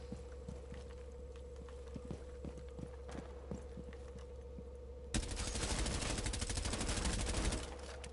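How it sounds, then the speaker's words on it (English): Gunfire in Rainbow Six Siege: scattered single shots give way midway to a sustained, dense burst of automatic fire that runs for a few seconds, fairly loud, with no talking. "Yes, someone's shooting back."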